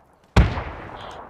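A grenade explodes in PUBG with one sharp, loud blast. A rumbling decay of about a second follows, ending in a faint trailing echo.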